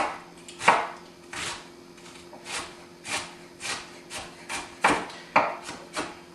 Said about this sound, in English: So I'm just going to chop it rather coarsely, actually.